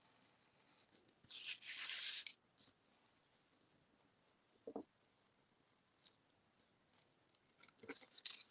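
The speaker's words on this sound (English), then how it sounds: "There we are, so we've cut out the silhouette." Scissors snipping through paper to cut out a silhouette, with quiet irregular bursts of crisp cutting and rustling, close and alone.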